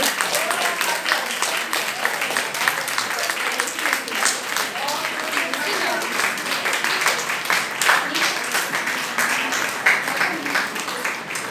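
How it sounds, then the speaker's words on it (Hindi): Audience at a retirement event claps loudly and steadily, dense sustained applause from many hands with voices mixed in throughout. "तालियां जोर से।"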